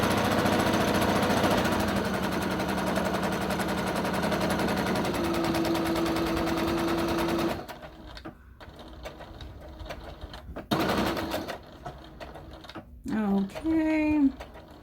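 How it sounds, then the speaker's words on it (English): A sewing machine stitches fabric for a book sleeve or tablet cover, sewing under the interfacing in a loud, steady rapid hum for several seconds, then the machine stops and a few quieter handling sounds follow. "Notice that I'm sewing directly underneath the interface there."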